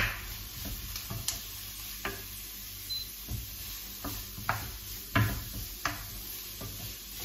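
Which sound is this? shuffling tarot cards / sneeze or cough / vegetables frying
vegetables frying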